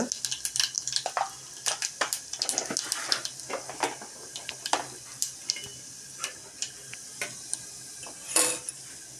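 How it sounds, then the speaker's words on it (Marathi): Mustard seeds crackle and pop in hot oil after garlic has been fried golden, making a dense run of sharp, irregular snaps up close with brief quieter gaps and a final burst. "आता त्यात टाकते मी राई राई चांगली तडतडली की आपण टाकूया पाव चमचा हिंग"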